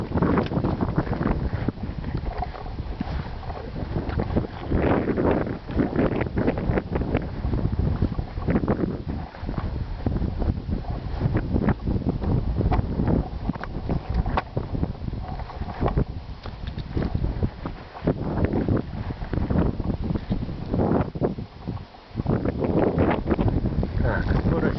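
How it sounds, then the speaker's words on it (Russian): Strong gusty wind at an outdoor shooting range, roaring and buffeting the microphone in uneven surges of about 5 to 6 metres per second, with people talking intermittently. "Ветер присутствует."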